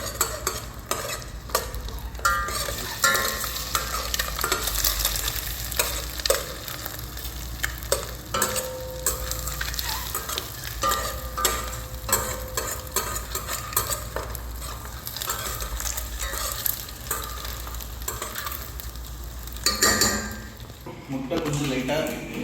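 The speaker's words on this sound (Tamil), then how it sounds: "முட்டை வந்து கொஞ்ச நேரம் அந்த ஆயிலில் லைட்டாக ஃப்ரை ஆகட்டும்." An egg frying lightly in a little oil in a pan, with continuous soft sizzling, frequent stirring scrapes and occasional utensil clinks against the pan; a voice talks over it at times.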